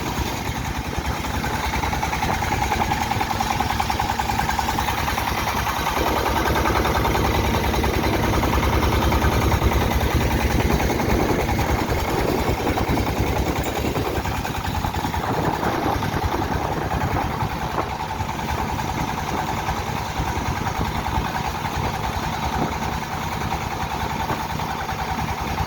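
Steady close drone of a boat engine crossing the Meghna river, a continuous mid-pitched chugging hum with vibration that holds level throughout, with no talking.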